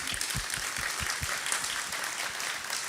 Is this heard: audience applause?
yes